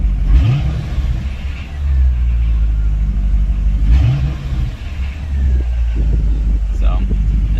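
Chevrolet Corvette engine running at idle with a steady low rumble and a couple of brief rising revs, heard close, with a person talking over it.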